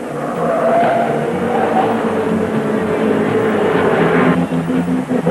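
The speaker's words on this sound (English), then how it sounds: "Al Unser has now begun to lap the field" Race cars at the 1979 Indianapolis 500 roar past in heavy traffic, a loud sustained engine drone with shifting pitch as cars pass close, rising and fading over several seconds.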